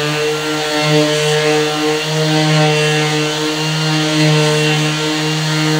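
A power sander runs against the rusty metal of a school bus being converted into a skoolie, a loud, steady droning whine held at close range with one brief spoken word.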